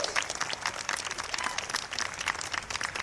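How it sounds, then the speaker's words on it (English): An awards-ceremony audience gives sustained applause for a robotics competition, dense steady clapping from a large crowd throughout, no one speaking over it. "how about a round of applause for all the educators, coaches, and the folks that made this happen"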